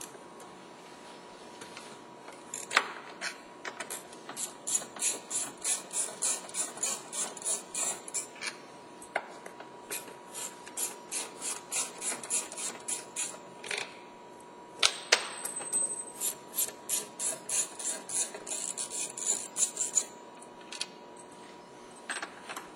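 Ratchet with a 5.5mm socket removing a Ford F-150 door speaker, close rapid clicking in repeated bursts with short pauses between runs.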